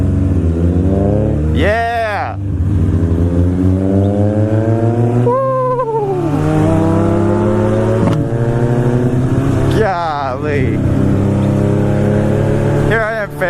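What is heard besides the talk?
Honda S2000 car exhaust revving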